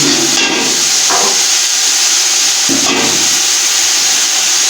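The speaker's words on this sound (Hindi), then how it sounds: "अभी हम इसमें गोश्त को ऐड करेंगे" Beef pieces hitting hot oil and spiced masala for yakhni pulao give a loud, steady hiss and sizzle throughout, with two brief bursts as more meat drops into the pot.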